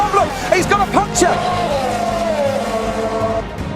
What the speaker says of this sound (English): look at the power of that Mercedes-Benz engine